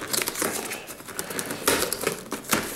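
An iRig UA box is torn open by hand: close, loud crinkling and ripping of packaging in uneven bursts, with two sharper tears near the middle and end.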